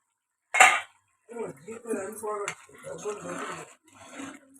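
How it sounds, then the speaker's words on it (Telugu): A metal lid lifts off a pot of simmering matar paneer curry with a brief, sharp clatter, and a voice then talks over the quiet kitchen. "ఇప్పుడు మూత తీసి చూద్దామండి"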